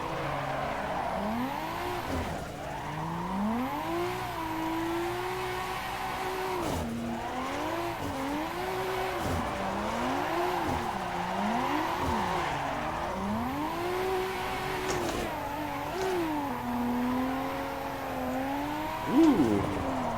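Tires squeal continuously as a car drifts in the Assetto Corsa racing sim, a loud, sustained whine that rises and falls in pitch with repeated swings, over steady engine roar.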